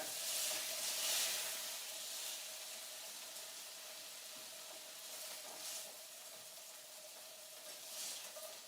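Meatballs dropped into sauce in a pan give off a soft, steady sizzle and hiss with a few brief swells. The sound is quiet and fairly close, with no talking.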